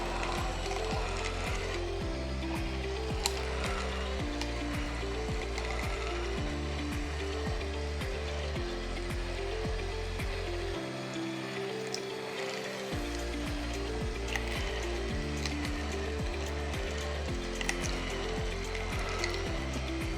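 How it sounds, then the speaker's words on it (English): An Elite Gourmet EJX600 compact slow juicer's small auger crushes produce with a steady, loud grinding and ratcheting churn, rhythmic clicking pulses throughout, briefly easing near the middle before resuming. "As small as the auger is, it manages to crush everything."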